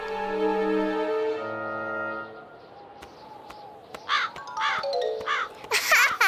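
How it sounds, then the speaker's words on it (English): A cartoon crow gives several loud harsh caws near the end, following a descending chime-like tone at the start, close and clear with no talk over it. "you see, it was just a bird."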